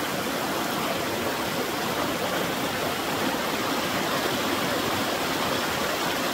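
Water in a shallow stream flows with a steady, broadband rushing hiss that stays close and constant throughout, with no voices.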